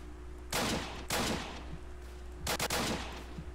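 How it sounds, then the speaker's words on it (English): Several loud bursts of gunfire in the Roblox game Apocalypse Rising, a few separated shots and a quick double volley near the end over a steady background hum. "I'm being shot"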